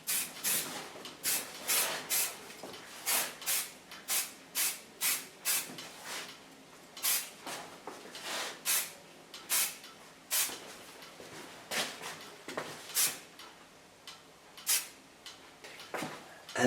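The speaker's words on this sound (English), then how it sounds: "Now to hold the hairs, I take a soft hairspray of Lance." Soft hairspray misted over freshly cut short brown-red pixie hair in a salon, a long series of brief hissing spray bursts, some quick pairs, others spaced apart, fairly close and steady throughout.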